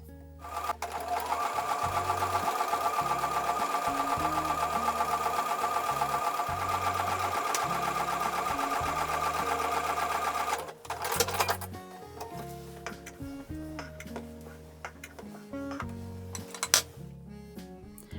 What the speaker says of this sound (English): I'm going to take this over to the sewing machine and sew a 1/4 inch seam on both sides of the drawn